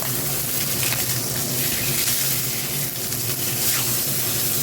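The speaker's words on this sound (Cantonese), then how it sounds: "跟住將牛扒反轉再煎" A steak fries over high heat in a wok, giving a steady, loud sizzle and gushing hiss that runs unbroken from start to end with no talking.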